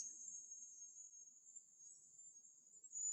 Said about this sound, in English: You have to listen to the cicadas.